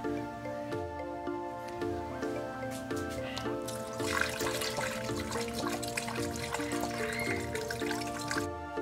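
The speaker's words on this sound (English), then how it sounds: "now I'm gonna pour my coolant through this funnel" Engine coolant is poured through a funnel into a car radiator, giving a continuous gurgling, trickling liquid sound with bubbly drips, close and fairly quiet, no talking.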